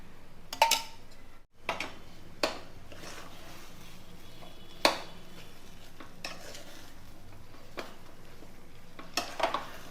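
Dough with ghee being stirred in a pan over a low simmer while making sweet and savoury pidi kozhukattai: scattered soft scraping strokes and light clinks at irregular intervals against a faint background sizzle, close by, with no talking.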